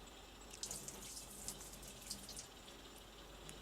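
Water poured into a lab sink drain, faint splashing and trickling with scattered drips, quiet and close, no voices.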